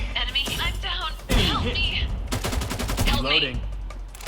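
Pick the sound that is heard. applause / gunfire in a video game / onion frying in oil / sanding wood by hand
gunfire in a video game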